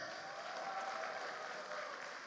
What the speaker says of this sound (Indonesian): Sekali lagi, tepuk tangan untuk Hai Sawit.